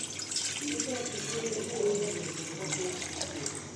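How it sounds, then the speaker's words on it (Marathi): Water pouring steadily into a pot for Maggi noodles, a continuous splashing rush, close and moderately loud, with a voice faintly underneath. "हे पाणी याच्यात टाकायचं आहे."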